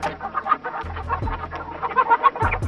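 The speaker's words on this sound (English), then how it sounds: "Chicken." An animated chicken clucks in a kids' cartoon, a busy run of short, choppy clucks at moderate volume over a low backing hum.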